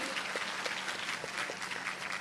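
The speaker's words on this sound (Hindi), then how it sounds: "जोरदार तालियां श्री संतोष पटेल जी के लिए भी" Applause from an audience at a Nasha Mukt Bharat Abhiyan anniversary event in Bhopal, a steady dense patter of many hands clapping at moderate level for about two seconds with no talking.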